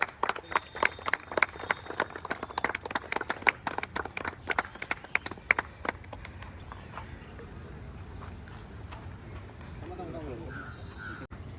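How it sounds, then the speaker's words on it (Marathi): A group of friends at a tennis ball cricket tournament clap together in a fast burst of sharp, close claps lasting about six seconds, then stop, leaving outdoor background noise and a few distant voices. "टाळ्या वाजवा रे सगळ्यांनी"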